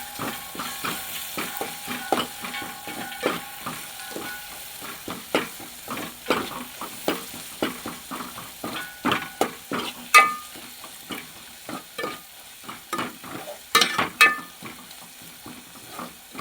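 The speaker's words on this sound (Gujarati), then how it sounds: "આપણે હલાવી નાખીશું આ બધી વસ્તુને" Chili powder and spices frying and sizzling in a pan with a spoon stirring, steady sizzle under repeated scraping and clinking strokes, close and fairly quiet, for an eggplant bharta.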